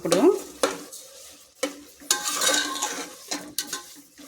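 Grated carrot and sugar stirred in a pan for carrot halwa, a spoon scraping and clinking against the metal in uneven strokes over a soft sizzle, close and clear, no voices.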